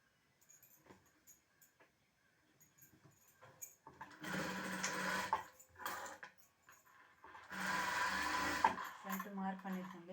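A sewing machine stitches a blouse in two sustained whirring runs of a few seconds each, preceded by faint clicks and handling sounds, fairly close and moderately quiet.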